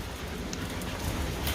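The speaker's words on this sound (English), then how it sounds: "I'm gonna put a little bit more chlorine in when this rain stops" Steady rain falls by an outdoor swimming pool after a hailstorm, a dense, even hiss that stays constant throughout with no voices.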